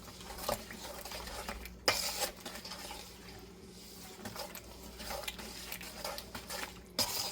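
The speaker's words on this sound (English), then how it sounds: "I'm just going to beat those eggs right in with the sugar and the apples." Eggs beaten with sugar and chopped apples in a bowl for apple cake, giving quiet irregular scraping and clinking of a utensil against the bowl, with soft wet patter between strokes.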